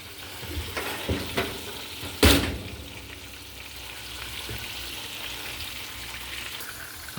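Southern fried chicken dipped in an egg and milk wash sizzles steadily in hot oil, a constant crackling hiss broken by one sharp clatter partway through, with no voices.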